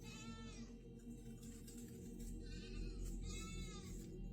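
A goat bleats twice, a drawn-out cry near the start and another near the end, fairly faint over a constant low rumble.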